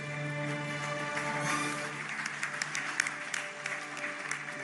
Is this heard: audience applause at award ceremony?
yes